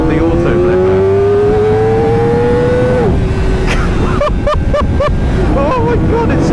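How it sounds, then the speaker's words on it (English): A Kawasaki Ninja ZX4RR accelerates with a rising high engine whine, then a quick series of sharp blips as it rev-matches on downshift with the auto-blipper, all under loud wind rush and a rider speaking. "those rev matches are just awesome on the auto flipper"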